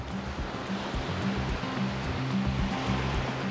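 Waves wash along the shore at Tadoussac, Quebec, near the mouth of the Saguenay, a steady broadband surf wash filling the whole stretch with a soft low rumble underneath.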